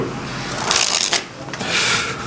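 A deck of playing cards is shuffled in a few quick riffling bursts, close and crisp, with brief pauses between them.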